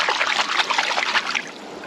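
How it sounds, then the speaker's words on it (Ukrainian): Galangal roots are rinsed in water, a steady close trickle and splash running briefly without talk. "тільки треба промити це коріння у воді"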